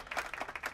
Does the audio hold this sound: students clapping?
yes